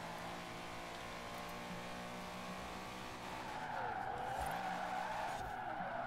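Car drifting in Forza Horizon 4, engine droning steadily with a sustained tire squeal that swells and bends in pitch during the slide, fairly close and continuous, no voices.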